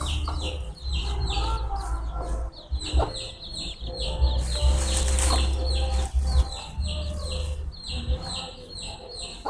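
Chickens cluck repeatedly at close range at a farm vegetable garden, with irregular calls over a low steady background and a brief flutter of wings.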